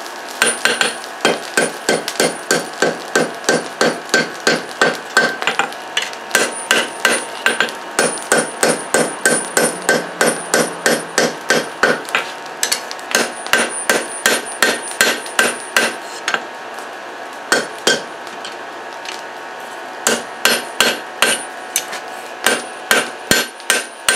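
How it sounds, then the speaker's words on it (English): Hand hammering bevels into a hot Damascus steel knife blade at the forge, a long series of sharp ringing metal blows in a fast steady rhythm with brief pauses, loud and close, no talking. "when I hammer in the bevels"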